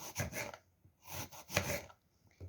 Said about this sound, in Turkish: Mor soğanımı da yuvarlak yuvarlak kesiyorum